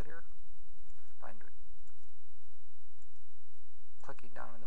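A computer mouse clicks in dental design software (Legacy WAVE): a few sharp, separate clicks spaced seconds apart over a low, steady hum.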